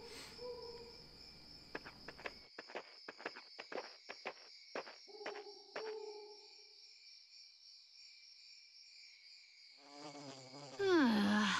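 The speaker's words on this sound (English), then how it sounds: "Noisy, disgusting bugs that buzz around and crawl over and bite you" Bugs buzz and click at dusk in a run of sharp, irregular chirps over a steady high drone, followed by a quiet stretch and a final louder sweep.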